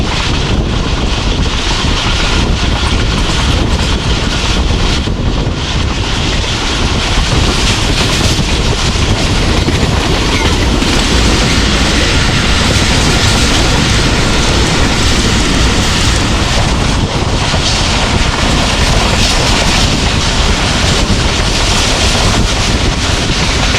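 A passenger train rumbles through a railway station in Punjab, a continuous loud roar with heavy wind buffeting the microphone, steady and unbroken throughout with no voices.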